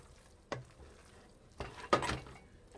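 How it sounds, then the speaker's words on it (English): A spoon scrapes and stirs food with melted cheese in a sizzling pan, producing a few distinct scraping strokes over a faint, low frying hiss. "Gonna just stir it for about a few more seconds so we can get the cheese distributed evenly everywhere"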